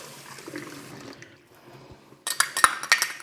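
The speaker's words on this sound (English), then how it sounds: "Wash that spoon." A spoon is washed under running water in a home kitchen. A soft trickle comes first, then a louder burst of splashing tap water with a few metallic clinks near the end.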